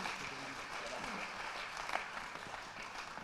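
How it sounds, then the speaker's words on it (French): A church congregation applauds at an evangelical service in Paris, a steady wash of clapping with a speaking voice over it. "Si l'applaudissement est pour le Seigneur, donne-le plus fort"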